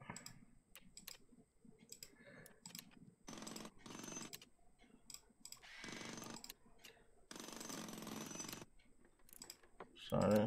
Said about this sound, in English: I do apologize for the drilling.